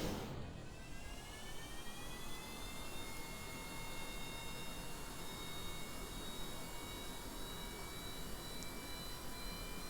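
Jet engine throttling up in the game RP1 Redux on a Mach 2 jet build: a loud, continuous roar with whining tones that climb in pitch and then hold steady, with no talk.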